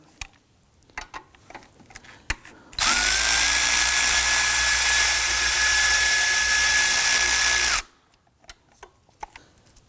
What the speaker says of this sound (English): right here is the adjuster screw, so we're going to use a 12mm socket with an extension